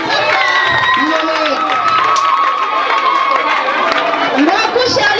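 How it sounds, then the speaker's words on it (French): Crowd of parents and pupils applauding loudly at a private school prize ceremony, a dense continuous wash of clapping and cheering with chatter and voices mixed in throughout. "On applaudit très fort pour lui."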